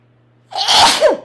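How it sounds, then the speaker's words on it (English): A single loud, close sneeze bursts out after a brief quiet hum, sharp and breathy. "excuse me, I'm sneezing"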